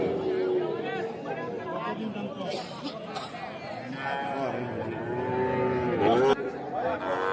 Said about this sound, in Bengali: ছোট ছোট বাছুর যেখানে কেনা বেচা হচ্ছে আমরা কিন্তু সে জায়গায় রয়েছি